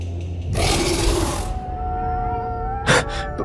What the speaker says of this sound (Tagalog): lalong lumakas ang mga alulong ng mga aso